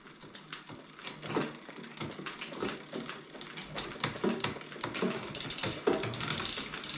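Mountain bike gears shifting on a freshly built bike with a derailleur not yet tuned: close, rapid mechanical clicks and ratcheting chain rattle in uneven bursts, growing busier and louder toward the end.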